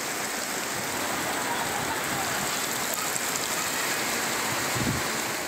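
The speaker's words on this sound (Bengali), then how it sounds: "তিন দিন ধরেই অবিরাম বর্ষণ" Heavy, continuous rain falls steadily during three days of nonstop downpour and hill flooding in Mymensingh and Sherpur, Bangladesh, a dense, even hiss with no letup and no voices.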